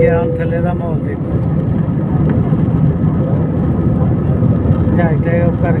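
Steady, loud engine roar fills an airliner cabin as the plane takes off and climbs from an airport in Saudi Arabia, with people talking over it throughout.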